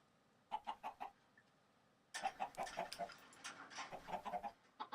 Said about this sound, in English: Oh my gosh, birds!